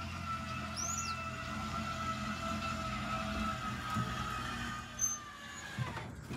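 Electric jacks on a camper retracting, a steady mechanical motor drone with a faint whine running throughout, fairly quiet and continuous, with a few small knocks near the end.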